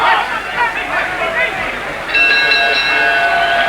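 Boxing ring bell ending the second round of Muhammad Ali vs Henry Cooper, ringing out clearly with sustained tones in the latter half, over commentary and a murmuring crowd.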